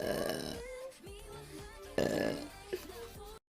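A woman lets out a couple of long, croaking burps close to the microphone, with short pauses and a bit of voice between them.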